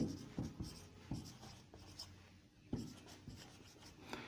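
A pen or chalk writes the letter F in a physics lesson: a few scratchy, rubbing strokes in short bursts, close and quiet, with pauses between them.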